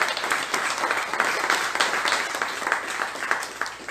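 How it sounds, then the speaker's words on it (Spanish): A church congregation at a Spanish-language worship service claps together in steady, dense applause that fills the room, loud and continuous for a few seconds without a break. "Dale un aplauso a Dios."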